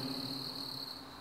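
Crickets chirp in a continuous, high, steady trill at night, faint and close, with no other sounds.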